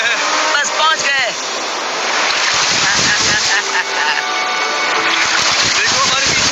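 Open ocean surf surges and roars steadily as a big wave rolls in around a small boat far out at sea, loud and wind-buffeted, with a voice speaking over the wash.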